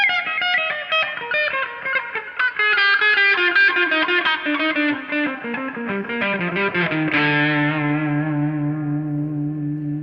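An electric guitar through a Boss Katana 50 amp plays a descending run of notes with a slightly overdriven, warm blues tone, then lands on a sustained chord ringing out with echo.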